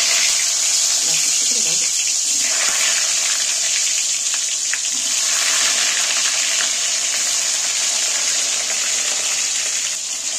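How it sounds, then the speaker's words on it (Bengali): Whole pointed gourds coated in salt and turmeric fry in very hot oil, giving a loud, steady sizzle that continues the whole time. "এবার গোটা পটলগুলো যে নুন হলদুম ওখানে আছে সেগুলো আমি তেলের মধ্যে তুলে দিচ্ছি"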